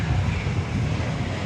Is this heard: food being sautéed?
no